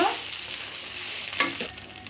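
Potatoes and onions frying in a pan with bay leaves, curry leaves, mustard seeds and cinnamon for a poha breakfast: a steady, close hiss of sizzling oil with a brief scrape of stirring partway through.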